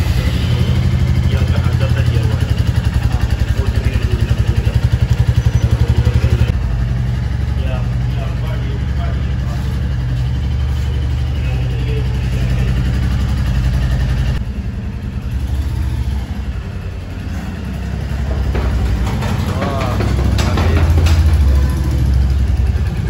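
A 2022 Royal Enfield Meteor motorcycle engine idles with a steady, loud low rumble throughout, while someone talks over it close by.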